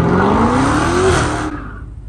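A Dodge Hellcat's engine revs loudly, a dense roar with a rising pitch that holds for about a second and a half before it drops away to a quieter rumble.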